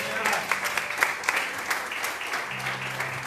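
A church congregation at a prophetic night service applauds, a dense burst of clapping with sharper individual claps standing out, with a voice briefly audible beneath it.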